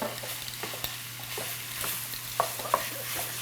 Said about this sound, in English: I got Sarah doing the sausage and I'm doing everything else over here